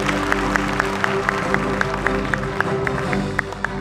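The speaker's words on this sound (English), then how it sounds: "Clap hands, parents." An audience of parents claps at a school prize-giving for support staff, a dense spread of applause with sharp, evenly spaced claps standing out in a quick rhythm.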